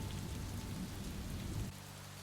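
Rain falling steadily as a sound effect in an audiobook, a soft continuous patter on a surface that carries through without any voice, then dips slightly quieter near the end.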